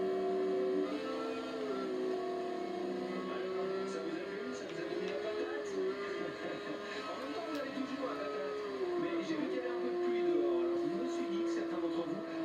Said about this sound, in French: je vous laisse écouter ce V10 atmosphérique comme il chante bien